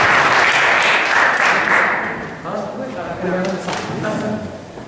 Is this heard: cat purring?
no